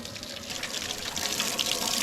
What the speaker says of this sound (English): Might have to change the faucet. A little bit of a leak there